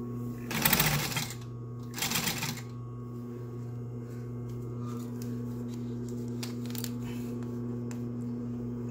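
An industrial sewing machine stitches in two short bursts near the start, then the motor hums steadily with faint clicks at a low level and no talking.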